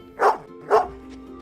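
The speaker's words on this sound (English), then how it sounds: "Again, you can pet the dogs" Two short barks from a dog in the Viking pixel-art game Sons of Valhalla, close and clear with a brief pause between them, then a faint yip.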